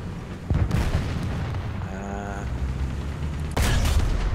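A tank cannon fires in a World War II video game set on the German side, two sharp loud booms about three seconds apart over steady battlefield rumble and engine drone.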